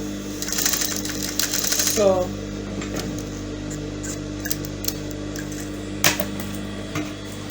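A sewing machine stitches a side flounce gown, busy and rattling for the first two seconds, then a lower continuous hum with scattered clicks, while a person talks over it.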